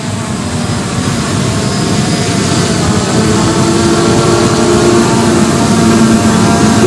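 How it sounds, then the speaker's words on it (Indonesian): An SG906 Max Pro 3 drone hovers and flies outdoors in windy conditions over a city, giving a steady, loud propeller whine and rotor drone that holds evenly throughout with no pauses. "Sekarang saya akan naikkan lagi drone-nya, guys."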